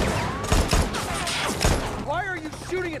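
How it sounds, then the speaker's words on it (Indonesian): Gunfire from a police squad shooting in a film, several heavy bursts and thumps mixed with dialogue and score, followed by screeching, wavering sounds like tyres or sirens. "Inspektur Das datang dengan membawa pasukan dan langsung menembaki mereka"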